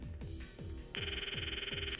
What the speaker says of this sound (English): I stopped the video and called Mayuri's phone from my address book.